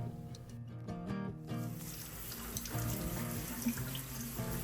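Tap water runs steadily into a kitchen sink while zucchini are washed, a continuous close splashing flow with a hum of background noise, no talking.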